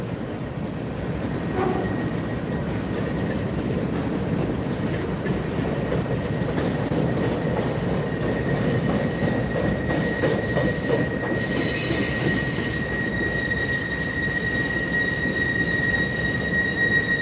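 A CSX freight train rolls past close by at a street crossing, a continuous loud rumble of wheels on rail with a sustained high wheel squeal rising in the second half.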